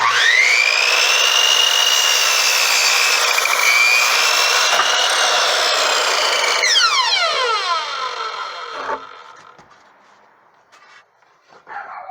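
A power saw rips through a wooden window sill with a steady, high, whining cut lasting several seconds, then the blade spins down with a falling pitch and goes quiet before a faint clatter.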